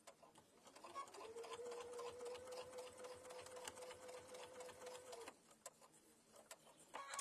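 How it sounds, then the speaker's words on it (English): A sewing machine runs steadily for about four seconds, top stitching 1/8 inch from the edge of a fabric mug bag, a sustained whirring hum that starts and stops cleanly, followed by a few faint handling clicks. "Nice little top stitch right along the edge, 1/8 of an inch from the edge of the bag"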